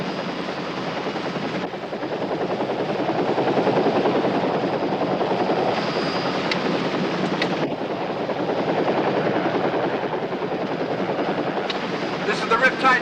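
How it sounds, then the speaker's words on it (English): A pink helicopter circles with a steady rotor thrum droning overhead, swelling and fading slightly as it moves, with a few faint clicks near the end. "Cops don't fly pink helicopters."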